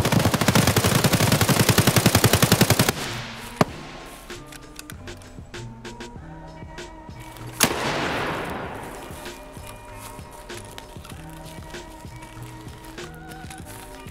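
Automatic gunfire in the video game Escape From Tarkov opens with a loud, rapid burst of shots lasting a few seconds, then single sharp reports and echoing tails fade under quieter ambient game sound.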